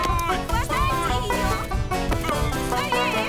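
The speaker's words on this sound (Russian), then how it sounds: "Курица сбежала!" Cartoon chicken clucking frantically while escaping, rapid repeated squawks and clucks over busy music, close and loud with excited voices mixed in.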